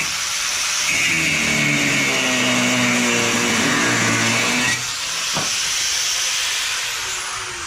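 A gas tank strap bolt is cut on a 1956 Bel Air parts car, a loud, continuous close hiss with a droning tone that breaks off briefly partway, then resumes.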